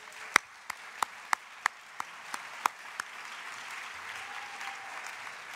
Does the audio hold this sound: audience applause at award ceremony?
yes